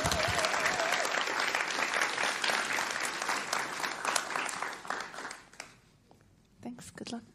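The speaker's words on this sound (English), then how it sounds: "Big round of applause." A crowd at a conference event claps steadily and enthusiastically, the applause thinning out and fading toward the end with a few last claps.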